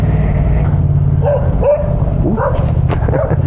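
A small dog yips and barks several times at Pierrefonds, its short sharp barks rising over a loud, steady engine rumble, as if heard from a motorcycle.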